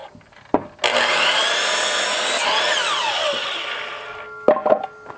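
A power saw cuts through a rough sawn siding board for an off-grid outdoor kitchen: a loud, sustained whining cut after a brief start, which winds down near the end, followed by a few clunks.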